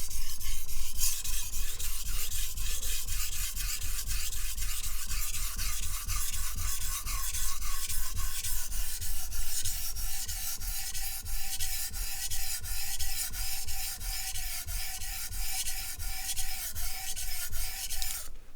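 Nakiri knife sharpened on a whetstone with steady, rhythmic back-and-forth scraping strokes, close and moderately loud, pace slowing slightly toward the end, no voices.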